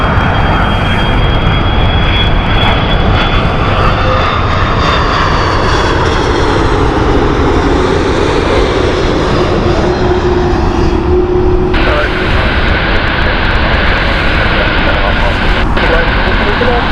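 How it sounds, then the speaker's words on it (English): An Air Algerie Airbus A330 jet comes in to land at Heathrow, a loud, steady broadband roar of engines and rushing air that holds and swells over the whole stretch. "Here she is, beautiful Airbus A330 of Air Algerie."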